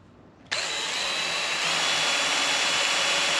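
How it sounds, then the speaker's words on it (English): After a brief quiet moment, a center drill on a 75-year-old Monarch 10EE lathe starts boring a center hole, giving a sudden, steady high-pitched whirring cut that holds evenly to the end. "Now we put the center drill into the center and make a center for the center."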